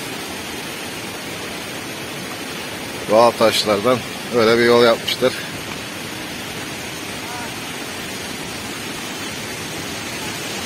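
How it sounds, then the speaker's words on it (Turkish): Huai Kaeo waterfall in Chiang Mai pours in a constant broadband rush that fills the whole clip, with someone speaking briefly over it midway. "Huaycay Şelalesi."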